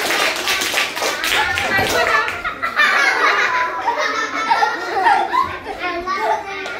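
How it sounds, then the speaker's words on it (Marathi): Schoolchildren clap during a Children's Day classroom chat with their teacher, a loud, dense burst of hand claps mixed with children's voices and laughter, continuing throughout. "टाळ्या वाजव."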